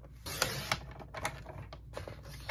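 Paper cutter slicing card stock down to 3.25 inches, a run of close, uneven mechanical rasps and clicks from the blade and guide, fairly faint with no talking.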